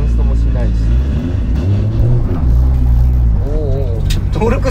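Toyota Supra JZA80 with a 2JZ engine and TO4Z full turbo kit, a loud deep six-cylinder drone rising and falling as it pulls hard from inside the car, with people talking over it.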